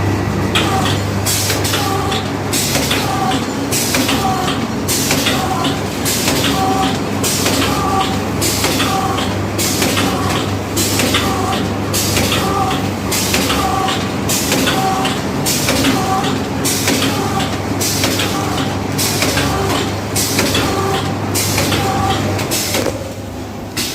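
An automatic pouch packing machine that adds nitrogen and runs on single-phase household power keeps up a loud, steady mechanical cycle, with rhythmic clacks and hisses repeating about once a second over a constant motor hum, and no talk.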